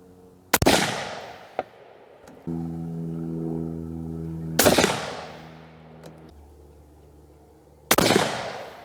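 Three loud, sharp rifle shots from a Weatherby Vanguard chambered in 6.5-300 Weatherby Magnum, spaced several seconds apart and each with a ringing decay, with a low mechanical hum and small clicks between them.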